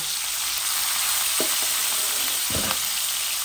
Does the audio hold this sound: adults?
no